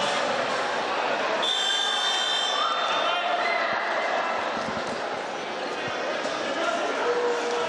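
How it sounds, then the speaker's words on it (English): A shot clock buzzer sounds briefly amid steady crowd noise in a basketball arena, with a commentator talking over it. "just heard the buzzer"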